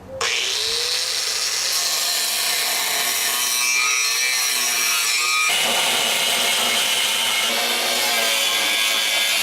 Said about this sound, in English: I'm going to take my grinder and I'm going to cut this section out here